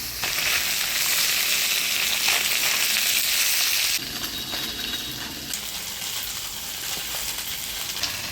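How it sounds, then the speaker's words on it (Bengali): Boroli fish fries in oil, a loud, dense sizzle that drops to a quieter, softer crackle partway through and continues to the end. "বৈলি মাছটা ভাজিয়ে নিলাম, এবার তুলে নিচ্ছি।"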